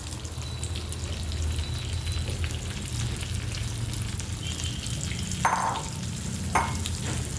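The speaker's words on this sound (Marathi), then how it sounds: "तूप गरम झाल्याच्या नंतर आपल्याला उडदाच्या डाळीचं पीठ टाकून घ्यायचं आहे" Urad dal flour roasting in hot ghee in a pan, giving a soft continuous sizzle with light stirring and a couple of brief scraping strokes near the end, and no voices.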